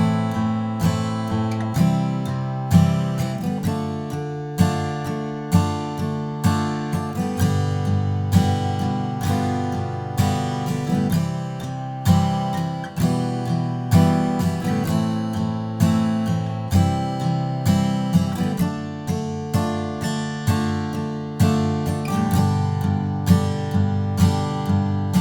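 Acoustic guitar strumming the verse chord progression of Bruno Mars' When I Was Your Man, a steady rhythmic pattern of full strummed chords played close and clear, with no voices.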